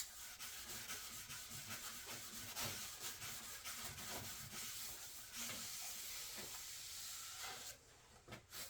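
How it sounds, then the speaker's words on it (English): A Scotch-Brite pad rubs wax into a ski base during a home tune, a quiet, close, continuous scrubbing hiss with rhythmic back-and-forth strokes, briefly pausing near the end. "I'm going to finish it off with the Scotch-Brite pad again."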